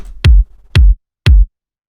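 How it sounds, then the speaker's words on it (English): Three clean Linn drum machine kick drum hits, evenly spaced about half a second apart, each a punchy low thump with a short click attack and quick decay, played alone. "just like a clean Linn drum kick from the actual machine is going to work the best."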